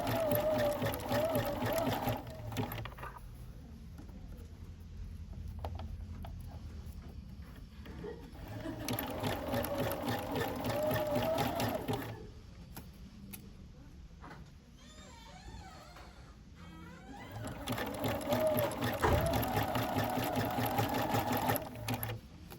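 A sewing machine stitches an elastic shirring seam in rapid mechanical bursts, stopping briefly between runs and then starting up again, heard close and clear.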